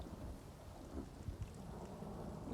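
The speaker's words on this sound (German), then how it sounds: "Und auf einmal fängt es an zu regnen. Gewitter setzt ein." A thunderstorm in the Elder Scrolls Online game gives steady rain hiss over a low rumble of thunder, a dense, continuous wash at moderate level with no voices.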